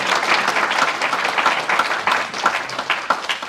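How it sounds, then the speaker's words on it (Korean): A church congregation at a Korean-American church assembly worship service applauds pastors in encouragement, sustained dense clapping filling the room from start to end with no talk over it. "응원과 격려의 박수를 보내주십시오."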